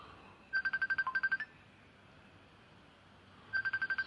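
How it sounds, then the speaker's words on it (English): A mobile phone ringtone plays in two bursts of rapid, evenly pulsed electronic beeps, separated by a quiet gap. It sounds close and clear over a faint background hiss. "My other phone will ring."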